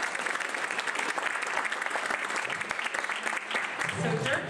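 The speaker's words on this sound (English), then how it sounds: "So give them a round of applause." Audience applause at an offstage jazz series concert, a steady, dense wash of clapping from a crowd that holds evenly across the whole stretch without pause.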